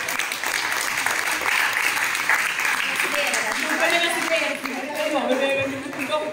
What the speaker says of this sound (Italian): Volete fare l'applausino?